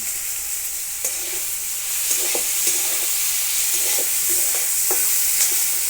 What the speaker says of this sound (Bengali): ভালো করে ভেজে নেব অল্প নুন দিয়ে দিলাম পাঁচ রসুন নিয়েছি রসুনটা দিয়ে দিচ্ছি